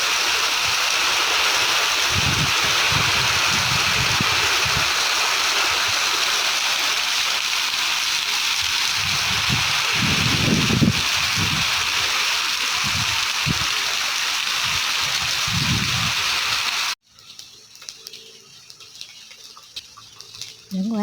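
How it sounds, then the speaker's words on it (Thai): Heavy morning rainstorm pouring steadily as a loud, dense hiss for most of the stretch, with low rumbling bursts within, then cutting off abruptly near the end to quieter, scattered sounds. "ฝนตกแรงมากเลยค่ะ"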